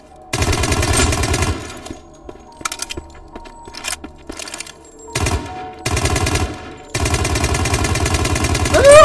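A video game machine gun fires in several long, rapid bursts separated by short pauses, loud and close throughout.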